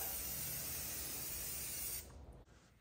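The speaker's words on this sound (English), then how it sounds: "Spray it down again." A steady, loud hiss of an aerosol spray paint can coating custom Lego minifigure display stands, held continuously for about two seconds, then cutting off to a quieter hiss.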